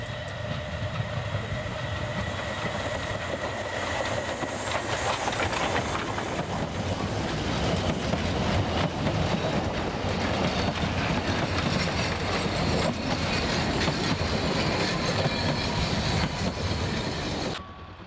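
Narrow-gauge K57 class steam train, built in 1952 at Babelsberg, running on the Zittau railway with a steady rolling rumble and wheel clatter that grows slightly louder, heard alone.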